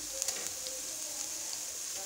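Ground garlic and ginger sizzling in hot oil with light-brown onions in a pan, a steady soft frying hiss with faint stirring clicks throughout, no talking.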